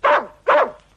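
A dog gives two sharp, loud barks in quick succession, close by, with nothing else around them.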